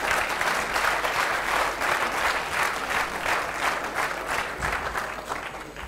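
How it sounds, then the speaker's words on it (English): Audience applauding at the close of a talk by a senior vice president of Union National Bank in the UAE, steady dense clapping from many hands that stays loud throughout and eases slightly near the end. "Is this applause celebrating the end of the session or what you went through?"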